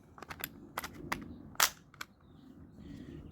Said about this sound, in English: Sixth shot on this CO2 cartridge.